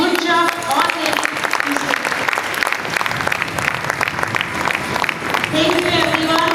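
Audience applauding at a closing ceremony, dense sustained clapping from a sizable crowd throughout, with a voice speaking over it at the start and end.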